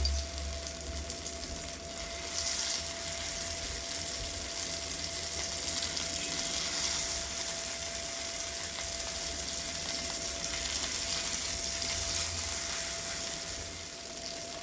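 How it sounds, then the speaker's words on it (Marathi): Chickpea patties sizzle on a hot griddle, with a continuous, bright frying hiss that swells slightly as more are added, close and steady with no talk. "तवा पण छान तापलाय, आता त्यावरती सोडूया आपण, एक एक करून मी सोडून देते तव्यावरती"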